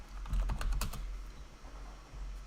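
Soft, quick keystrokes are typed on a computer keyboard in a short clustered burst and then fade into light, quieter taps against low background noise.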